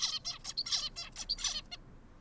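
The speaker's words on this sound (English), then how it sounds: "Play the bird song." A recorded bird song plays back as a series of repeated multi-syllable chirps and trills, clear and close, ending abruptly.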